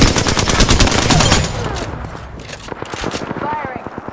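Sustained automatic gunfire in the Apex Legends video game, a dense, loud, rapid volley that thins into scattered shots, with game voice lines and speech running over it.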